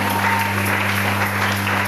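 Steady applause from a congregation at a church service fills the whole short stretch, even and continuous, with a low hum running underneath.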